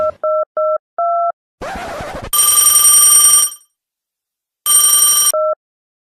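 A telephone sequence for a call to the police: a few short beeping tones, a burst of noise, then a loud, bright electronic ringing that stops, followed by a second ring burst and a final beep, with no talk.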